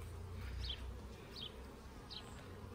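Honeybees buzz at an open beehive during a hive inspection, a soft steady hum with three brief louder buzzes as single bees fly close past, no voices.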